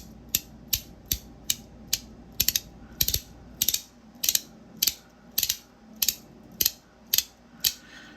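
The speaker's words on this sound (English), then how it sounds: "This Zirku tie coin is so loud and snappy." A Zirku tie haptic fidget coin clicks loudly and snappily, up close, in a steady series of sharp mechanical snaps about every half second, some doubled, with no talking.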